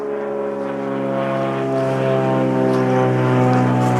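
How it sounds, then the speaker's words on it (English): A Beechcraft Bonanza propeller plane drones steadily overhead, its engine hum growing slightly louder and fuller as it passes, with no voices. "oh, a Beechcraft Bonanza."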